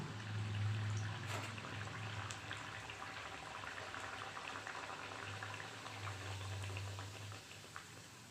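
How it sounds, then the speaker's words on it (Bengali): Luchi, puffed flatbread, frying in hot oil, a continuous bubbling hiss at close range with a low steady hum underneath, no voices. "এবার আমি লুচিটা ভেজে নিচ্ছি"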